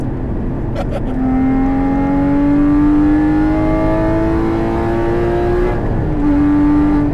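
A 2018 Porsche 718 Cayman GTS with its exhaust valve closed gives a steady, loud engine drone that rises slowly in pitch as it pulls through a gear, dips briefly near the end, then settles back, heard from inside the car.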